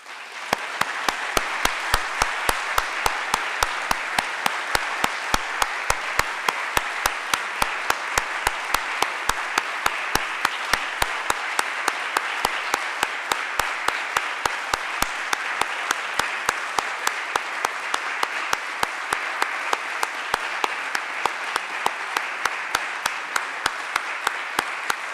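A large audience at a university academic-year opening ceremony applauds retired professors, a long, steady wash of clapping that holds at an even level with rhythmic accents for the whole stretch.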